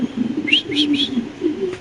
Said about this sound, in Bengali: এখানে আছে একটা শৌখিন কবুতর